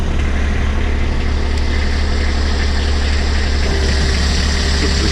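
Kubota tractor's diesel engine running steadily at idle, a loud, close, continuous low rumble with no talking.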